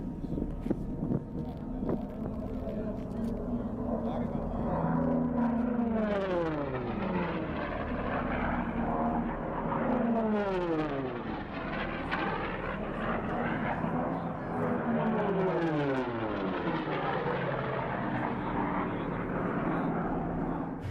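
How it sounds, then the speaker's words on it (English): Vintage World War II planes race low over the desert at the Reno air races, their engines roaring in repeated passes whose pitch swoops downward as each one screams past, loud, with wind buffeting the microphone. "Vintage World War II planes screaming just feet above the desert floor, cheered on by thousands."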